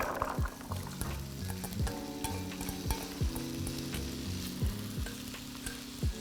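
Finely chopped potatoes and onion fry in a pan with a steady sizzle, broken by a few short stirring scrapes, over a low tonal background.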